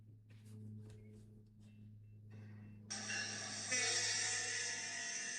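BNSF locomotive 7013 towing a train: a low steady engine drone that swells into a loud, bright hiss and horn-like tone, heard at a moderate distance with no talk.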